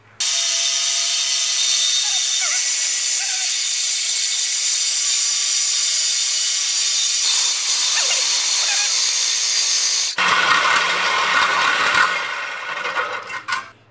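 A loud, continuous high-pitched whine of a power cutting tool grinding through a metal exhaust catalytic converter on a Mustang, shifting to a rougher, harsher cut near the end before winding down.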